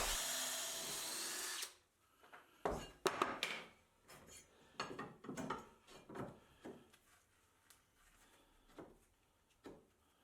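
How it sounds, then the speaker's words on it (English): A power drill whirs loudly for a couple of seconds while drilling holes in ceramic tile, then stops, followed by a series of irregular clunks, scrapes and knocks. "I found the easiest way to start off drilling holes like this in tiles"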